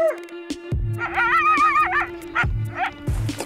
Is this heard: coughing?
no